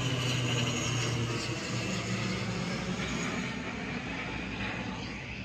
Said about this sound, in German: es fliegt ein Flugzeug rüber